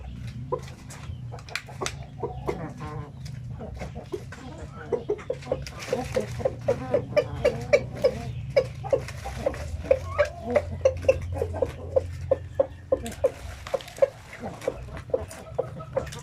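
Black Australorp chickens clucking nearby in a backyard flock, a dense run of short repeated clucks over a low background hum, steady and close throughout.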